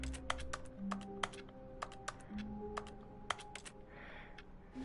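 In The Stanley Parable, a computer keyboard is pressed in irregular clusters of sharp, close clicks over a faint hum of background music.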